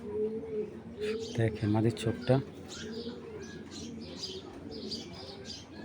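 Red checker racing pigeons coo in a few rounded bursts close to the mic, with someone talking over and around the calls and a faint chirp in the background.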